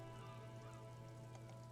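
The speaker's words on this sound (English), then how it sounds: "Rain falls down on the world." Soft, steady patter of rain in the video game Disco Elysium, quiet and continuous, with a low steady hum beneath it.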